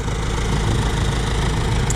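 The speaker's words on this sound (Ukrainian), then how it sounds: "У нас є вібрації. Зразу дуже чуть вібрації по карданові." A YuMZ tractor engine runs steadily in a small field plot with a cultivator attached, a close, loud, continuous low drone carrying a constant vibration from a misaligned cardan shaft, with no voices.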